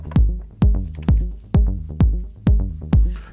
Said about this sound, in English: The kick drum of the 909 drum computer sounds like this.